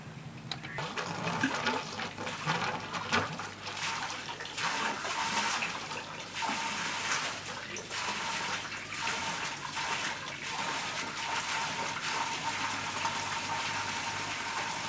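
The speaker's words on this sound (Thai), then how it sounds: "โอเคครับน้ำนิ่งแล้วนี่คือน้ำที่ไหลออกมาจากสายยางครึ่งนิ้ว" Water from a half-inch or one-inch garden hose, fed by a 1.5 horsepower submersible pump lowered into a deep well, gushes steadily and loudly for the full span with a broad continuous rush and no talk.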